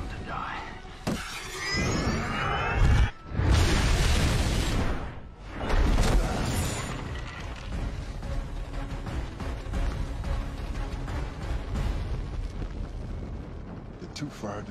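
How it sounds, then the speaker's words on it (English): Fireworks explode in a warehouse in an action film scene, with loud crackling bursts, booms and shattering debris piling up over a dense, roaring background across about fifteen seconds. "Fire dancers drop into a warehouse full of fireworks?"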